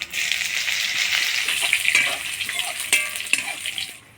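Dried chilies, bay leaves, crushed ginger and panch phoron sizzle loudly in hot oil, a bright, steady crackling hiss close by with a few scraping stirs, fading near the end.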